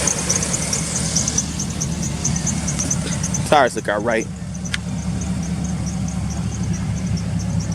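A 2004 GMC Yukon Denali XL AWD with the 6.0 Vortec V8 idles at a steady, close rumble, a loose tensioner making the belt squeak faintly and repeatedly above it; someone speaks briefly midway.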